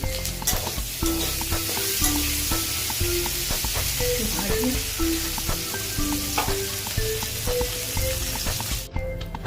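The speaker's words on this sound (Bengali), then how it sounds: "নুন দিয়ে দিয়েছি এবার কপিটা ভাজা হোক" Cauliflower pieces frying in hot oil with salt in a home kitchen pan, a steady close sizzle running throughout with scraping stirs of a spatula and a few brief clinks, no talk.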